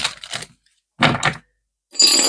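Three short, crisp bursts of papery riffling separated by brief silences, like a deck of cards being shuffled close by.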